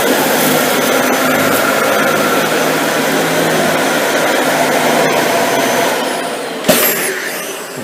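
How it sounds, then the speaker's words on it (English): Dyson Ball Multi Floor 2 vacuum cleaner running with its brush roll on over carpet along the baseboards, a loud steady broadband whir that holds for several seconds, then eases slightly and ends with a brief bump. "We'll have the Dyson Ball Multi-Floor 2 on with the brush roll on."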